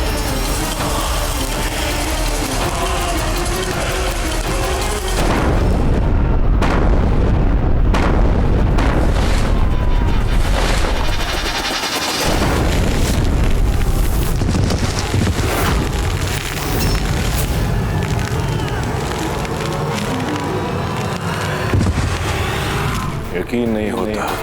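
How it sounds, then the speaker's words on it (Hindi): Cannons fire during a Rajput battle against the Mughals, in the era of Maharana Pratap, including an old broken cannon. Loud booming blasts roll through the clip over shouting voices and battle din. "गोला डालो, आग लगाओ।"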